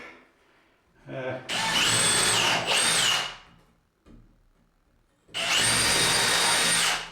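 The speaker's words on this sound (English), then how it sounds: "So I'm just drilling my holes first" A power drill whirs in two long, loud bursts separated by a short pause, drilling steadily through wood.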